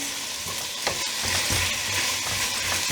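A spoon stirs a Japanese one-pot dish with fish dashi and toasted sesame oil in a sizzling pan, a steady hiss of frying under repeated scraping strokes close by, with no talking.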